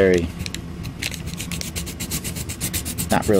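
A metal diecast NASCAR car body being rubbed across sandpaper, giving a steady, close scraping rasp in repeated short strokes that keep a fairly even rhythm throughout.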